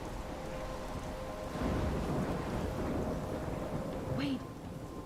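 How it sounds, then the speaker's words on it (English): A thunderstorm in the video game Life is Strange brings a steady wash of rain with low rumbling thunder swelling midway, plus a faint electronic tone near the end. "I'm trapped in a storm?"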